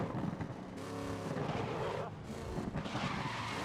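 Race car engine roaring steadily in a racing video game, with tires skidding and squealing through corners, loud and continuous with brief dips.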